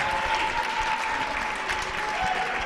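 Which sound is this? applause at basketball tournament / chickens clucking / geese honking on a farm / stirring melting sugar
applause at basketball tournament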